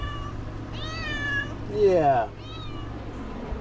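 A cat meows in a chicken coop, several drawn-out, rising and falling meows in sequence, the loudest one in the middle, heard close with a brief spoken word.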